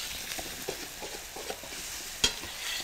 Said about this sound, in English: And some chopped onions. Let's cook these down